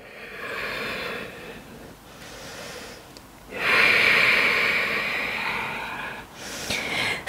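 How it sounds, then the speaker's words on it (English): Audible breathing during a gentle vinyasa yoga flow, several long airy inhales and exhales close to the mic, the loudest swell in the middle and another rising at the end, with no talking. "Breathing here."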